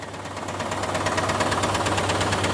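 A running IROC car engine idles with a rapid, steady clacking tick on top of its low hum, close and continuous throughout.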